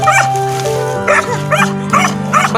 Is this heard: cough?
no